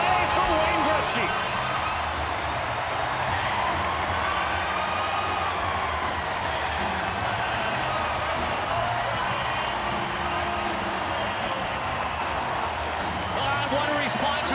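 Capacity hockey arena crowd roaring after an Alex Ovechkin goal, a sustained loud wash of cheers and noise with a commentator talking over it.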